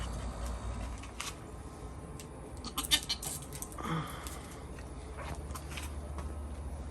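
Goats bleat several times, close by and fairly quiet, with scattered clicks and movement around them and no talking.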